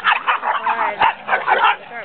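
A dog barking and yipping during play, heard as a close run of short, rapid, high-pitched yaps and whines with a quick rhythm.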